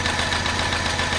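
A sit-down midarm quilting machine running at a speed setting of 35 to 40 while stippling gives a steady, continuous motor whir with a fine rapid stitching buzz, close and even throughout, with no voices.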